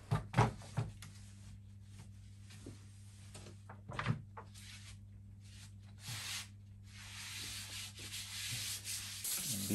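Hand sanding of an arcade control panel before vinyl is applied, heard as faint, close scratchy rubbing strokes in irregular bursts over a low steady hum.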